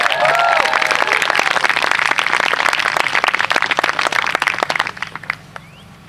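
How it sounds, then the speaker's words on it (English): A graduation crowd at Monticello NY High School claps loudly for the next speaker. Dense applause fills the space with some cheering and whoops early on, then gradually thins out toward the end. "let's give a big round of applause for our next speaker"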